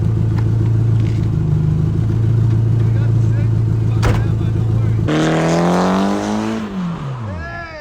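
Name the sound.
Nissan SR20 engine car revving and drifting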